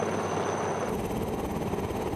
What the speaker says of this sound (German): Und wenn der Hubschrauber startet, dann fliegt er hoch und zieht das Rohr mit sich.